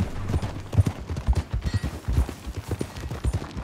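Horse hooves clip-clop in a steady, fairly close trot on a ride in Red Dead Redemption 2, the rhythmic thuds continuing throughout with no speech over them.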